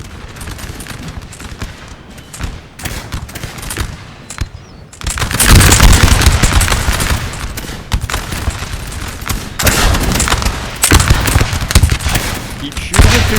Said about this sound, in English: Keep shooting and shooting, boys. Keep shooting and shooting.